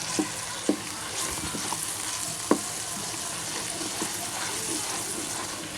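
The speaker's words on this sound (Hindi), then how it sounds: "तीन तो 4 मिनट लहसुन अदरक की बुनाई करसा" Onions frying in a pan with a spoonful of ginger-garlic paste for an egg chana dish, a continuous close sizzle broken by a few sharp spoon knocks against the pan.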